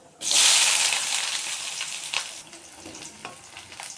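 Onions for a moong dal sambar start frying in a pan with a sudden loud hiss that gradually settles into a softer sizzle, with a few stirring knocks near the end and no voices.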